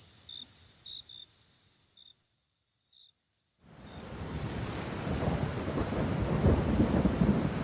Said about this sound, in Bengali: সকালে মুষলধারে বৃষ্টি শেষ রাত্রে নেমেছে